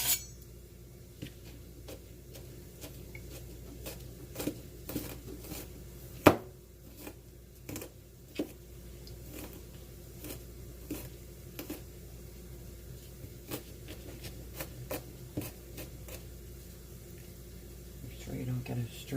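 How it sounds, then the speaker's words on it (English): A knife chops garlic on a board with sharp, close taps in an uneven rhythm, some strikes louder than others, against a quiet kitchen background. "I'm going to chop my garlic."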